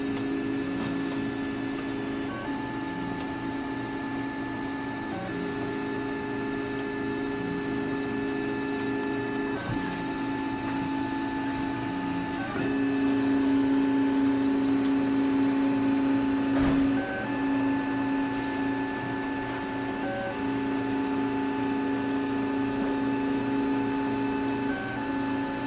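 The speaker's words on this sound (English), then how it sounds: "So it started printing, so you can see the overall time it needs." A 3D printer at work, its stepper motors whining in steady tones that shift pitch in repeated steps as the print head moves, over a low constant fan hum.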